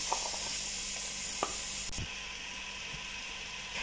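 Diced onion sizzles in two tablespoons of hot margarine in a pot, a steady close hiss with a few small pops and faint clinks, with no talking.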